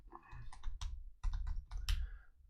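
A password is typed on a computer keyboard in two short bursts of crisp, close key clicks separated by a brief pause, with no talking.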